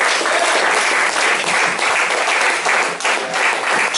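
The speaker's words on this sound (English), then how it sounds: "So please give a big round of applause to his buddy lady," Audience applause at a live music venue during a veterans' tribute night, steady dense clapping that holds loud and close for the whole stretch with no voices over it.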